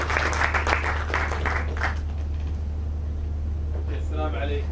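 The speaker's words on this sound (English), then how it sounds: "With a round of applause." Applause from the audience at a port project completion ceremony, a short burst of claps over a constant low hum, fading into background noise with a brief voice near the end.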